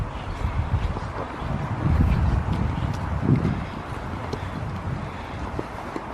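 Horses moving close by outdoors on a windy Swedish winter day, with soft hoof clops and snorting-like low thuds over steady wind rumble and no talk.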